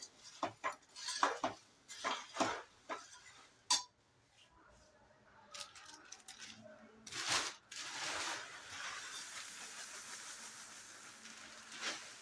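A spoon scraping and clattering in a metal pan, stirring a puffed-rice chiwada mixture, in irregular bursts up close with a steady sizzling hiss building toward the end.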